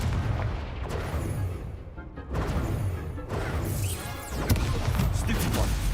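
Expelliarmus spell cast in the Hogwarts Legacy video game, a series of sharp magical bursts and impacts over a rumbling low background, with brief crackling flares between hits.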